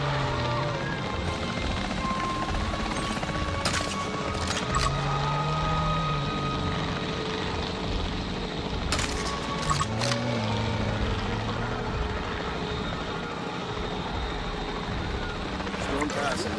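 A capture team helicopter from the Jurassic World Evolution 3 video game thrums steadily throughout, its rotor drone continuous under game voices and occasional sharp effects.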